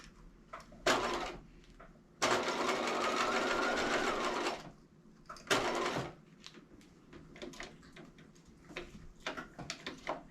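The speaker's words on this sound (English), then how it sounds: "now I'm going to baste those loops in place by machine so that they don't slide around" Sewing machine basting loops onto a lace veil, running in loud mechanical bursts, one short and one long sustained run, with handling clicks and rustles between them.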